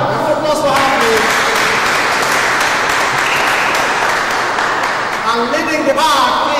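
Continuous crowd clapping at a school event at Marble Model Academy, Abuja, welcoming a participant, steady and close throughout, with a voice briefly speaking near the end.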